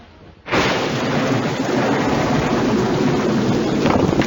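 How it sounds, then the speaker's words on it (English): A heavy downpour with rumbling thunder bursts in suddenly and holds as a dense, loud, steady roar of rain with no voices. "Huh, looks like rain."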